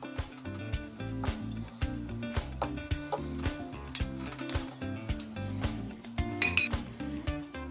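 Pasta and tinned tuna chunks stirred together in a mixing bowl, with steady scraping and clinking of a utensil against the bowl, continuous and close, under a music track.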